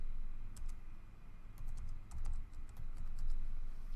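Keystrokes on a computer keyboard as a short password is typed, a few scattered taps and then a quicker run of clicks, close and fairly quiet over a steady low hum.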